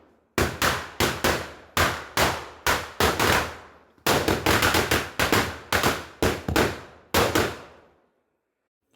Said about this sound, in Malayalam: രാവിലെ കണി ഉണ്ടെങ്കിൽ പടക്കം പൊട്ടിക്കലുണ്ട്.